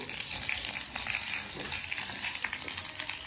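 Mustard seeds crackle and splutter in hot frying oil while Jaffna-style stingray (thirukkai) fish is cooked, a steady, faint hiss with scattered pops throughout and no talk.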